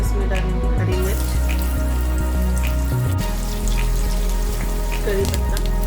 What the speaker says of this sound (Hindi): फिर इसमें डालेंगे हरी मिर्च,